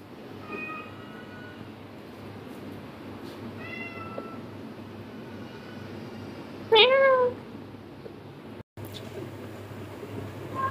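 A few short meows sound over a low background hum, the clearest one loud and close, the others fainter and spaced apart.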